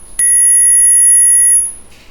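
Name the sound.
10,000 Hz test tone from Mivi S24 soundbar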